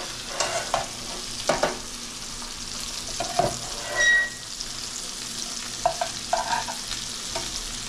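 Shrimp and garlic frying in a pan for gambas al ajillo, with a soft steady sizzle broken by scattered utensil scrapes and taps as the pieces are stirred and turned, close and moderately quiet with no talking.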